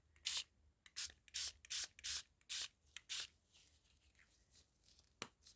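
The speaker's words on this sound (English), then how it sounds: "let's go with some green food colouring spray" Several short hissing sprays of green food colouring from a pump bottle onto paper in quick bursts, close by, followed by a few fainter sprays and one final sharp spritz.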